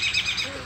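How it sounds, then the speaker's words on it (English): Birds calling outdoors in a Canadian garden on a damp morning after light rain, a steady run of overlapping high calls with no speech. "birds are noisy"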